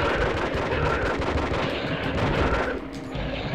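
Sustained gunfire from the PlayStation game Disruptor, a dense, steady rattle of rapid shots that thins slightly near the end, loud and close with no talk over it.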